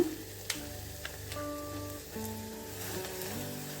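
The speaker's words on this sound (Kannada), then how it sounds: "ಈಗ ನಾವು ಪುಡಿ ಮಾಡ್ಕೊಂಡಿರೋ ಮಸಾಲೆ ರಸಮ್ ಮಸಾಲೆ ಹಾಕೊಳ್ಳೋಣ" Ground rasam masala powder sizzling in hot oil in a pan for a tomato and garlic rasam, a steady close frying hiss with a few soft stirring clicks and no talking.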